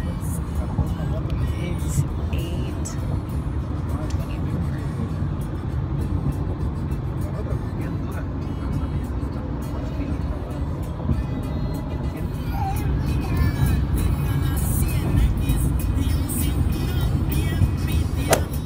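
A car cruises along the road on a road trip to Las Vegas, with a steady low engine and tyre rumble filling the cabin throughout and people talking over it.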